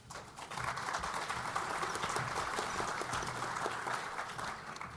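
Audience applause for a speaker at a cyber workforce panel event, a steady dense wash of clapping hands that holds evenly for about five seconds with no break.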